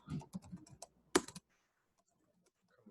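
Quick, close keystrokes on a computer keyboard come in a short burst of clicks, ending with one firmer tap before quiet.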